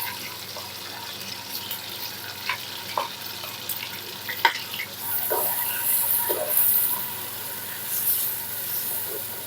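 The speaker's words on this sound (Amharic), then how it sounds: "የገበታ ቅቤ፣ ሽንኩርት ጨመርኩኝ።" Onion frying in table butter and oil in a pan: a continuous soft sizzle and hiss with scattered crackles and pops, close by, growing slightly fuller partway through.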